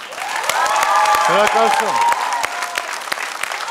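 Audience applause at a televised talent show, a dense wash of clapping that holds steady and loud, with a host speaking over it and a voice announcing a contestant's name.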